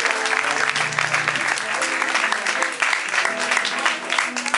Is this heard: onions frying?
no